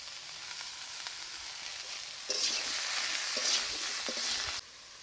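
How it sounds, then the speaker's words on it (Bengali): Ridge gourd, potato and pumpkin flowers fry together in hot oil, giving a steady sizzle that swells suddenly louder midway, with stirring scrapes, before easing back down; no one speaks. "চিচিঙ্গে, আলু আর কুমড়ো ফুল কাটা দিয়ে দিচ্ছি, সব একসঙ্গে তেলের উপর।"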